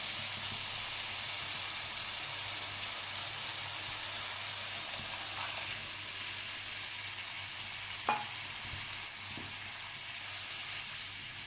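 Chickpeas in a spice masala heating in a pot bubble and sizzle steadily, with a few faint stirring clinks partway through and no talking.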